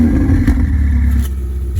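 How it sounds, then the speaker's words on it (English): Close up with the engine bay open, the 3.9 litre twin-turbo V8 of a 2018 Ferrari 488 Spider gives a loud, brief exhaust blip as it revs up, then settles back. "let's listen to that exhaust note."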